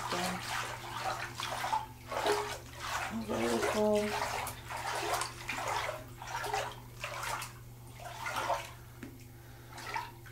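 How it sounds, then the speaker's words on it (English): Water sloshes in a bathtub as a glittery thorn bath bomb dissolves, with repeated splashing swirls and hand movements, close and moderately loud, while a person talks throughout. "So that's the color of the water."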